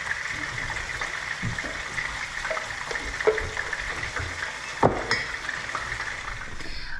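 Pasta water in a pot on a home stove, a steady hiss of bubbling and simmering close by, broken by a few soft clinks and one brief knock.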